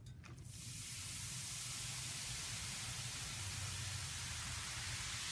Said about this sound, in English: Wow, can you hear that fizzing?